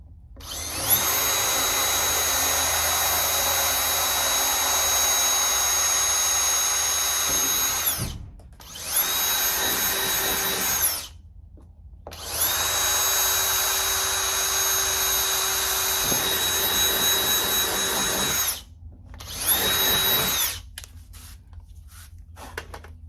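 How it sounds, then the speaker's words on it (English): A power drill with a 13/64 bit opens a pilot hole for a machine screw while building an amplifier mount for a Harley-Davidson tour pack. A loud, close whine runs in four bursts separated by short pauses, with no talking. "Now we're going to use a 13/64 drill bit to open up our pilot hole to allow the machine screw to go through."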